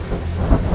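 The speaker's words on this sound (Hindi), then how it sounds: "बहुत बारिश हो रही है" Heavy rain falls with a low rumble of thunder, a steady wash of noise with a deeper swell partway through in a brief stretch, and no talking.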